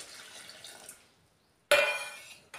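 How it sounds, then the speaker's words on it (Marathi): Cold water is poured onto boiled potatoes in a pot, first a softer trickle, then after a pause a loud close splash and gush, and a brief final pour. "त्यातलं पाणी टाकून देऊया. त्याच्यात थंड पाणी टाकूया."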